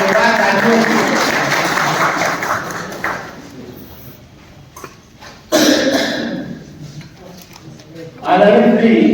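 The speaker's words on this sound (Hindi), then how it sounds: "एक बार जोरदार तालियों" Audience applause at a teachers' training closing ceremony, a loud burst of clapping that fades, then returns in fresh surges, with a brief voice between bursts.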